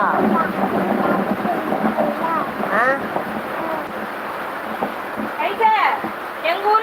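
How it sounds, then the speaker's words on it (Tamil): Heavy rain during a thunderstorm in a village makes a dense, constant wash of noise, with people talking over it throughout. "எங்கள் ஊரில் மழை பெய்யுது"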